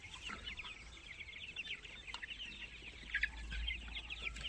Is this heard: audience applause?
no